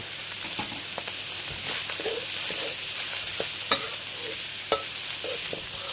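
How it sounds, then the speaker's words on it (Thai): Ham and carrots sizzle and crackle in a hot pan while a utensil stirs and scrapes, with a few sharper clacks against the pan; no talking. "ผัดไปเรื่อยๆให้แครอทสุกครับ"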